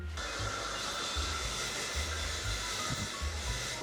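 A hair dryer blows on someone's hair, giving a steady, close airy whoosh with a low motor hum that holds unbroken the whole time, with no talk.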